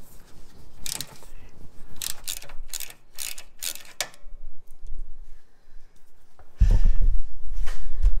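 Wrench ratcheting as a bolt is loosened on the air suspension reservoir of a Land Rover Discovery 3/4, giving a run of close, crisp clicks, then a heavier clunk and rumble at the end as the bolt comes free.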